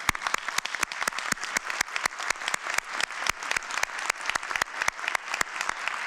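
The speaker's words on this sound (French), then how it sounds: "Alors, on peut applaudir nos trois finalistes." An audience applauds finalists at a francophone awards ceremony, a dense wash of clapping that carries on without pause.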